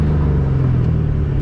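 Straight-piped Ford Mustang GT engine driving, a loud steady low rumble that holds close and constant throughout with no talk over it.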